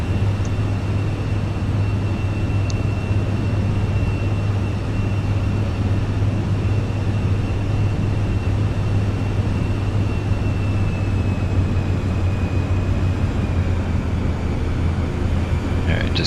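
A Cirrus Vision Jet in Microsoft Flight Simulator, a steady, loud, unbroken engine drone with a low hum and a faint high whine, holding constant throughout the takeoff roll.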